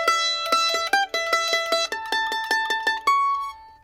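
A fretted string instrument picks the third line of Old Ebenezer Scrooge without slides. Crisp, close plucked notes follow each other in a steady, lively rhythm before settling on a longer sustained note.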